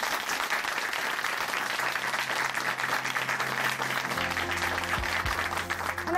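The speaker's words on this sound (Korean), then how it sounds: "오늘 귀한 간증 전해주신 나병석 형제님께 다시 한번 큰 박수 보내드리겠습니다" Congregation at Chuncheon Hanmaeum Church giving a long, dense round of applause after a testimony, the clapping steady and close throughout with a low hum entering near the end.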